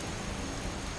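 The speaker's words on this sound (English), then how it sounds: "And it's raining." Rain in the video game Skyrim Dawnguard: a dense, steady hiss of rainfall filling the whole moment, loud and even with no speech.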